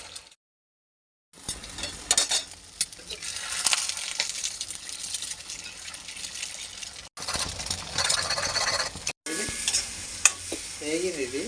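Eggs are stirred and fried in a pan, with a bright crackling sizzle and frequent scraping stirs, broken by brief silent gaps.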